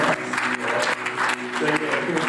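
A congregation claps for a graduating young woman at a Sabbath service, steady applause filling the room for a couple of seconds with voices talking over it.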